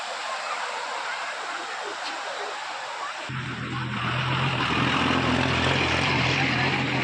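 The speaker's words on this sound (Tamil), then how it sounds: "இந்த பாலத்துக்கு அடியில் தான் நல்லா தண்ணி பல பல பலன்னு கண்ணாடி மாதிரி போயிட்டுருக்குது" Water runs steadily under a bridge at an adventure tourist spot near Pollachi, a continuous broadband rush that grows fuller and louder partway through, with a low steady rumble beneath it.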